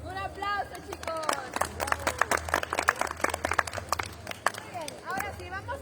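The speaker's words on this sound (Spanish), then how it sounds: "Un aplauso, chicos." Kids clap at an evening campfire gathering in Las Estacas, Morelos, a burst of scattered claps mixed with lively voices and chatter around the fire.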